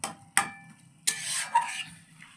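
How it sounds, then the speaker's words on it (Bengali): Eggplant stirred and mashed with spices in a pan for begun bharta, heard as a few close clacks and scrapes of a utensil followed by soft scraping and sizzling, fairly quiet with no talking. "মশলার সাথে আমি নাড়ব, একদম সমানে, একদম এরকম করে পিষে পিষে এটাকে মশলার সাথে ভালো করে কষাতে হবে"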